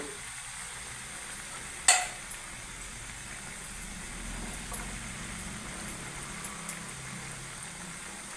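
Palakayalu rice-flour snacks frying in hot oil over a raised flame, giving a steady soft sizzle with one sharp metallic clink of a stirring spoon early on and a few faint scrapes after.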